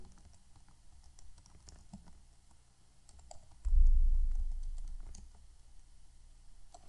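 Fingers type a new password on a computer keyboard running Kali Linux, a quiet, close run of irregular light key clicks with a brief low thump partway through.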